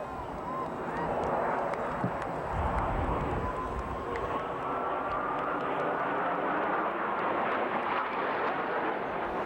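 Blue Angels jets roar overhead during the Delta loop break at an air show, a loud sustained rushing engine roar that swells and holds, with a voice talking faintly beneath.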